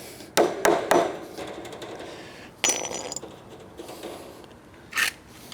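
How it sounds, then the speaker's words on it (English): Staples are hammered into wood on a DIY greenhouse plant table. Sharp, close knocks come in a quick burst of three, then another strike and a final lone tap, with pauses between them. "a lot of this will tighten up when you hammer them down"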